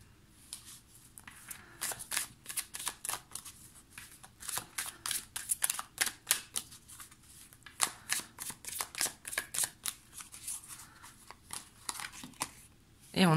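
Tarot cards are shuffled and drawn close up, making quick bursts of riffling and snapping at an uneven pace, fairly quiet, with no talking.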